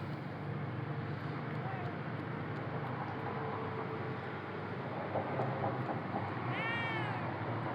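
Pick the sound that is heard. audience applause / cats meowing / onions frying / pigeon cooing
cats meowing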